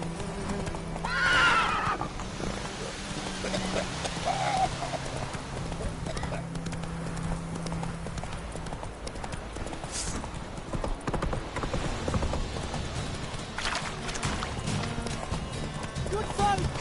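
The horse Roach gallops in The Witcher 3 video game, with steady clip-clop hoofbeats under music and effects and a neigh near the start, while someone talks over the action.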